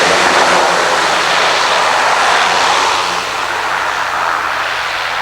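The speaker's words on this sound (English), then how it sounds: "Nice landing." A propeller airplane lands at the North Pole, its engine giving a loud, steady roar throughout with a slight drop in level partway through.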